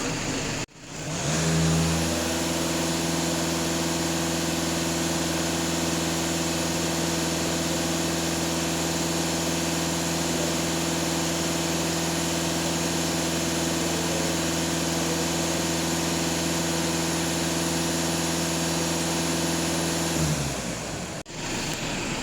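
A warmed-up VW Passat B8 with the EA288 diesel engine runs steadily for about twenty seconds, a loud, even, close drone with no clear change in speed, starting and stopping abruptly, with no talking.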